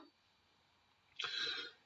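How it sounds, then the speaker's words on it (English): A single short, harsh cough breaks a quiet room, loud and close after a moment of near silence. "Got a bit of a dodgy cough."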